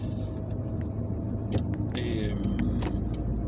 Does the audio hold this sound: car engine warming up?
yes